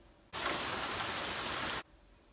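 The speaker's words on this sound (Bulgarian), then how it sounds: "навън вали." Rain falling outside, a dense even hiss of drops that starts abruptly, holds steady for about a second and a half, then stops just as suddenly against a quiet background.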